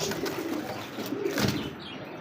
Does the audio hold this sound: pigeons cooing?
yes